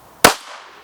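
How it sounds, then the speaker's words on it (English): A single sharp pistol shot fired from a rest while zeroing a red-dot sight, a loud close crack followed by a short decaying echo. "I'm going to shoot from a rest and just let the trigger surprise me"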